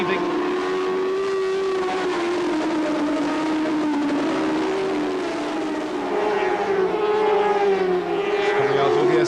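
Racing motorcycles at a 1988 Seniorstock 600 race on a circuit, including Honda, Suzuki and Kawasaki machines, braking and changing down through the gears: a continuous loud, droning engine roar with shifting pitch under a commentator's voice.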